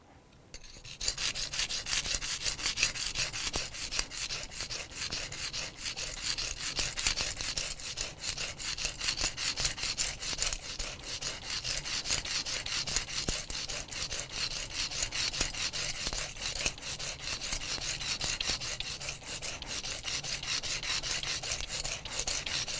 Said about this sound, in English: you can always rub one rock against the other until you get a semi-flat surface